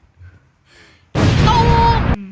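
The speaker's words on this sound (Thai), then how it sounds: "ว้ายมีระเบิดด้วย" A sudden loud explosion bursts out in a tram driving video game, a sharp blast that roars for about a second and then cuts off, preceded by faint game sounds and brief quiet voices.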